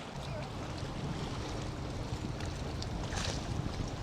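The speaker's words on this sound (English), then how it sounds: "it has started to pour over here in Lake Tahoe" Heavy rain pours down at Lake Tahoe in a dense, steady hiss that holds evenly throughout, with no voices.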